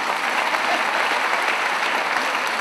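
A women's social democratic party conference hall fills with dense applause for a vote, a continuous crowd clapping that stays steady and fairly loud for a couple of seconds, with no talk on top.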